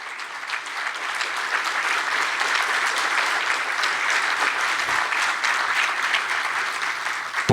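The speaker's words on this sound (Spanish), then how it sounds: "darles hoy un aplauso por lo que han hecho" Steady audience applause at a banking conference in Ecuador, a continuous wash of clapping from many hands holding at an even level throughout.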